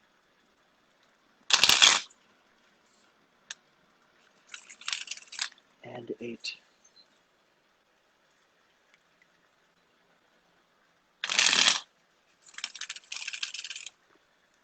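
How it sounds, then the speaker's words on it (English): Tarot cards shuffled in short bursts of riffling, several separate rounds with quiet gaps between them, close and crisp, and a voice briefly talking in between. "Let me just shuffle 3 times around."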